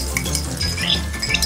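Onions for jambalaya go into a hot pan, producing a brief, close burst of sizzling with light scraping and stirring clinks.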